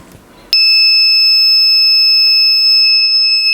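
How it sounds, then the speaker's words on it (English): Buzzer alarm of a home automation protection system, triggered when a door is broken, starts abruptly and holds a loud continuous shrill electronic tone with no speech. "alerting in buzzer"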